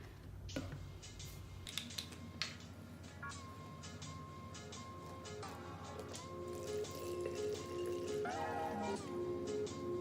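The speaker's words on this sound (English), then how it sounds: "So I'm gonna start by pouring in the witch hazel to 120 cc." Witch hazel is poured into a measuring container, a continuous liquid trickle with gurgling whose pitch rises as it fills, close and soft, with no talking.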